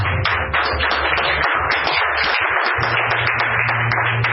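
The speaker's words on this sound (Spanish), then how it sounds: "¿Cuántos le dan un aplauso al Señor?" A church congregation clapping during a Spanish-language service, a dense crowd of hand claps that are close and steady throughout, with a low hum under them and no speech.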